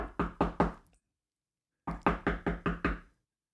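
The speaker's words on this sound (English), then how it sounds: "I gotta knock on every wood in my house." Knuckles rap on wood at home: a quick burst of three knocks, a pause, then a run of six, close and crisp with nothing else heard.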